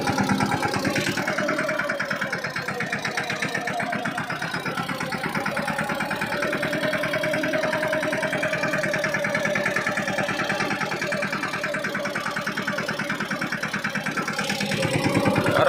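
A tractor engine idles throughout, a continuous low rumble with rhythmic chugging that holds at an even level from start to finish.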